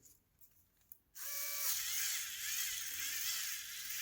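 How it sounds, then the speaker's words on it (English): Wiha Speed E electric screwdriver on a fully charged battery, a brief quiet lead-in and then a loud, steady high-pitched motor whir held close for about three seconds. "this is the full battery."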